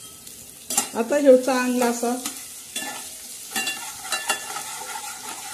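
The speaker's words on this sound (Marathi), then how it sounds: "आता तेलामध्ये सर्वात प्रथम आपण काय सोडणार आहोत, हा लसण आणि जिऱ्याचं आबडधोबड ठेचलेला हा कूट" Coarsely crushed garlic and cumin paste hits hot oil in a pot with a sharp burst of sizzling and stirring that then settles into a quieter crackle, and a voice speaks briefly over it.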